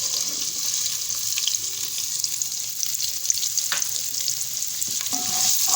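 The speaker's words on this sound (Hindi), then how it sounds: "हिला दूँगी इसको थोड़ा।" Mixed vegetables with cumin stirred in a hot pan, a soft continuous sizzle with occasional scrapes of the spoon, close by and alone without speech.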